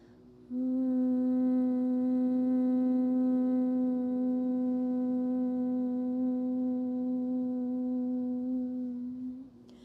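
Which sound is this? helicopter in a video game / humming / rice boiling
humming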